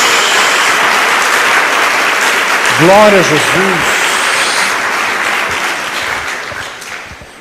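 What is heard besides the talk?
audience applauding in church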